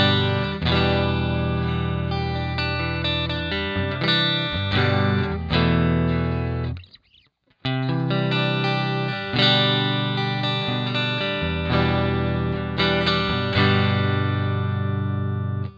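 Electric guitar chords and single notes ring out through an Amplitube 5 clean amp simulator with a clean amplified tone and light effects, pausing briefly before playing on.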